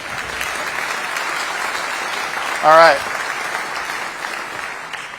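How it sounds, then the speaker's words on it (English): Crowd applause at the City of Orange State of the City 2022 address: an even, sustained hiss of many hands clapping across the whole stretch, with a short spoken remark breaking in midway. "Can I have a round of applause?"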